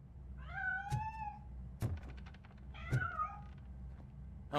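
A cat gives two clear, drawn-out meows a couple of seconds apart, close and fairly loud, with a few dull knocks and thumps between them.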